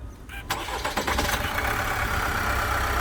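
An Opel Astra K engine cranks on the starter and catches, then revs steadily and loudly, a rough mechanical drone filling the rest of the short stretch.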